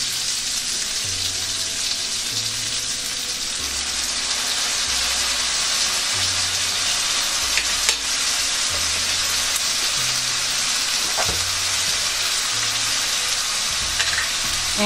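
Pancit bihon rice noodles sizzle in a pan with soy sauce, a steady crackling hiss running throughout while occasional stirring scrapes and clinks sound close by.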